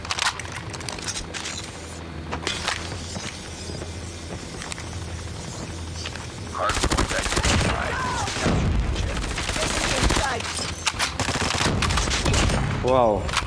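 Rapid automatic bursts from an OTs 9 SMG in Call of Duty Mobile, loud and close, with dense game effects and explosions layered in; the firing thickens and intensifies partway through.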